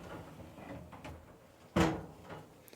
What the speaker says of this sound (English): when you insert it into the drawer